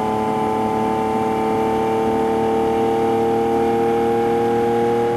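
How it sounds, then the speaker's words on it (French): A Lamborghini Aventador SV engine holds a loud, steady, even drone close by, with a constant tone and no revving swells or talk. "C'est vrai que le moteur est un peu chouette."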